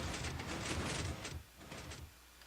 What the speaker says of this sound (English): Alright, so to open the door,